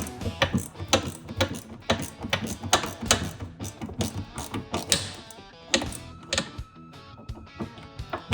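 Screws being tightened by hand to draw up a cracked front bumper on a BMW 328i 3 Series (F30/F31/F34) make a rapid series of close ratcheting clicks and mechanical ticks in uneven bursts.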